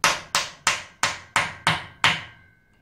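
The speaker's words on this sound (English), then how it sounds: "using a hammer now" Seven sharp metal hammer blows land on a steering rack during a workshop strip-down, evenly spaced and close, the last ringing out briefly.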